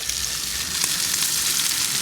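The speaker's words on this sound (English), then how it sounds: "I always got to get the sizzle test on the video" Food sizzling loudly on a hot cooking surface outdoors at a Lytle Creek off-road gathering, a continuous close hissing crackle with no talk.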